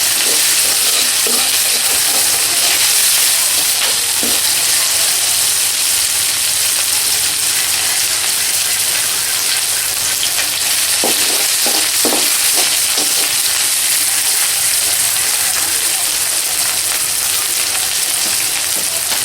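Onions fry in a pan for vegetable fried rice, producing a loud, unbroken close-up sizzle with occasional clicking scrapes of a spatula, steady throughout and free of speech.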